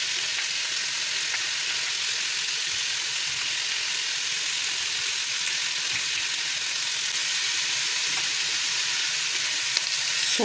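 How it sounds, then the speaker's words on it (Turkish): Lamb neck meat searing in a preheated hot pot, a steady loud sizzle and crackle of frying that continues evenly without pause, with no voices. "Kızgın tencereye koyuyoruz etimizi."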